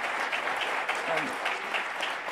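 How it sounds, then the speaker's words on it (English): Steady applause from a crowd at a community forum with a city police chief, sustained clapping throughout with some voices mixed in. "Let's give a round of applause to Chief Humphrey."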